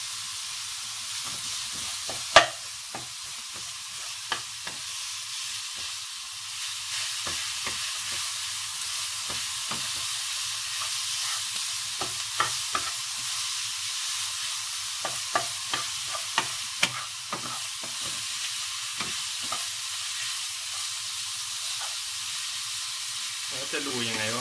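Pork fried rice is stir-fried in a pan, giving a steady sizzling hiss broken by scattered clicks and scrapes of the spatula stirring the rice.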